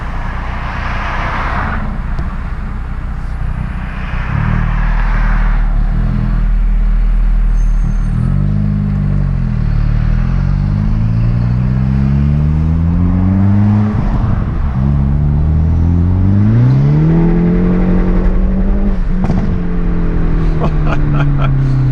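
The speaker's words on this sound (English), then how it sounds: "Just got a lot of tire spin there in second gear." A Hyundai Veloster N with a manual gearbox and an aftermarket SXTH Element intake accelerates hard in second gear with tire spin on a cold day. The engine drone rises loudly through the revs in long sweeping pulls, close by.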